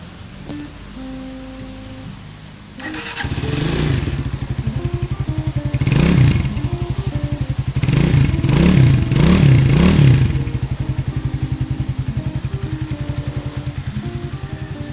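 A 2018 GPX Legend 200 motorcycle idles nearby with a steady, even pulsing thrum, then rises through a few short throttle blips before settling back to a smooth idle.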